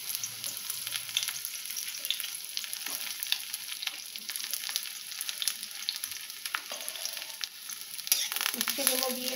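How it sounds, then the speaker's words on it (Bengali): Bitter gourd pieces dropped into hot oil for dal shuktani give a steady, dense sizzle that holds evenly for the whole stretch, with a few louder crackles and spatters near the end and no voices. "তেলটা গরম হয়ে গেছে, এবার আমি এই উচ্ছেগুলো দিয়ে দেব।"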